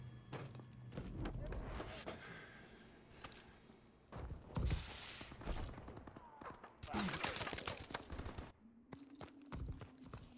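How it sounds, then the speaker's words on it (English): A magazine change during a reload in Call of Duty: Advanced Warfare, heard as a series of metallic clicks and clacks mixed with bursts of gunfire, with people talking over it. "I have to change mags."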